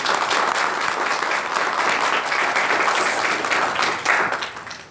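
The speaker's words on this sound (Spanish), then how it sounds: "Vamos a darle un aplauso." Audience applause fills a cartoonists' and comic artists' day event, steady dense clapping from a crowd throughout, swelling briefly near the end before tapering off.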